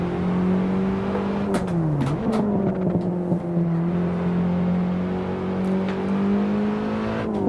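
A race car engine in a racing sim on PS4 holds a steady high drone, dips and climbs through quick gear changes with a few sharp clicks, then keeps running before rising again at the end.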